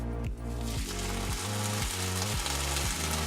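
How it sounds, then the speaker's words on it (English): Steady loud sizzling of homemade furikake in a very hot pan, with rhythmic scraping or stirring pulses repeating about every half second over a low hum. "you can hear it sizzling away there"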